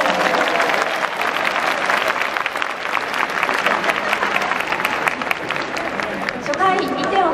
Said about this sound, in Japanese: この大歓声、たくさんのファンの方が今日という日を待っていました。